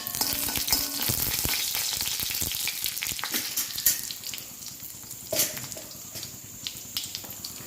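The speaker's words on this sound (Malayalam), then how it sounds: "കടുക് പൊട്ടി തീർന്നു തുടങ്ങി. അപ്പോൾ നമുക്കിവിടെ കറിവേപ്പില കൂടി ചേർത്ത് ഒന്ന് നന്നായിട്ട് ഇളക്കി കൊടുക്കാം." Mustard seeds and curry leaves sizzle and crackle hard in hot oil while a spoon stirs and scrapes the pan, loud and close, the frying busiest at the start.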